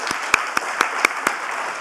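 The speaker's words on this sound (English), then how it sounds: "Please join me in a big hand of applause for all of them." Sparse audience applause for presenters at a World Wildlife Day conservation event, about six distinct hand claps spaced evenly, fairly faint and close.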